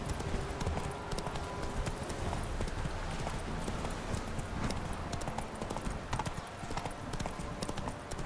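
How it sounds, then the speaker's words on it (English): Horse hooves clip-clop in The Witcher 3: Wild Hunt, a steady, dense run of close hoofbeats over ambient game sound. "get on the horse, man"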